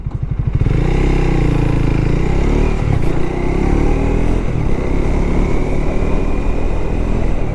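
A Triumph Tracker 400 motorcycle rides on a road, its engine revving up loudly from a start and then holding a steady, close drone with wind noise, no talking.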